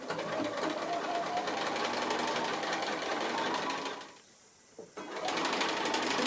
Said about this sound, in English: I'll go ahead and start sewing my little block patches together